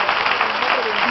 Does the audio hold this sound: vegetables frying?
no